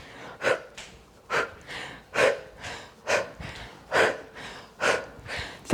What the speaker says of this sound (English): I'm kind of out of breath right now